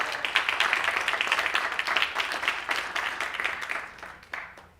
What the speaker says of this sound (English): Let's give Corey a round of applause